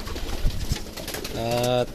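Pigeons in a coop, with a single drawn-out coo rising clearly near the end over soft rustling and shuffling.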